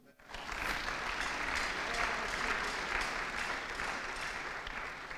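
A church congregation applauds during a sermon with dense, sustained clapping. It starts abruptly and holds at a steady, moderately loud level throughout.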